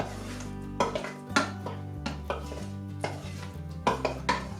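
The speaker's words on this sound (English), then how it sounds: "just stir it a little bit" A utensil scrapes and knocks against a pot while cooked dal is stirred, making a run of clinking strokes at an uneven rhythm, close and moderately loud, over a steady background hum.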